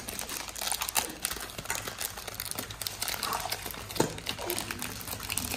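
Plastic packaging of a Mickey Mouse 90th Celebration blind ball being torn and opened, with close, continuous crinkling and crackling of plastic and occasional sharper crunches.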